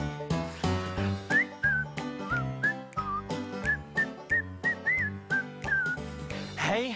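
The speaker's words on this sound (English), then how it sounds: "Hear that? I'm whistling." Someone whistles a cheerful, bouncy tune up close, clear pitched notes in a quick rhythmic phrase.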